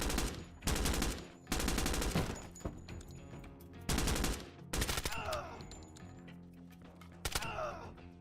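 Gunfire in the video game Blackout: several loud bursts of rapid automatic fire separated by quieter gaps, with a few shorter shots and echoing tails over a low background.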